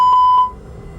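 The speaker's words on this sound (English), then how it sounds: "I'll perform a fire warning test before starting the APU." An aircraft fire warning test alarm sounds before APU start, two short clear electronic beeps in quick succession, then it cuts off into quiet cockpit noise.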